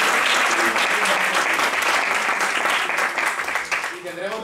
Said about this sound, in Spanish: Le damos un aplauso también.